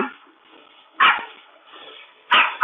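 A robotic dog gives two short, tinny barks from a small speaker, spaced about a second apart, with quiet electronic hum between them.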